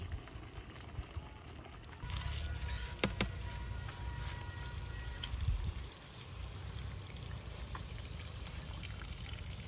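Water poured off a pot of freshly cooked rice in a village kitchen, a steady splashing pour starting abruptly and running on, with a couple of sharp clanks of the pot near the start.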